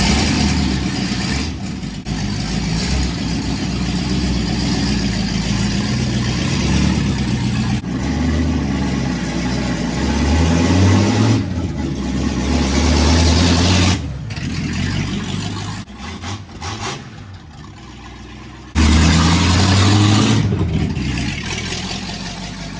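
A 1959 Chevy Apache pickup truck, revived after sitting 42 years, driven around the back of a parking lot: a steady mid-pitched engine running with repeated revs and rises through the gears, brief drops between, close and loud, no talk.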